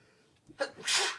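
A single close sneeze, a short inhaled catch followed by a sharp, breathy burst.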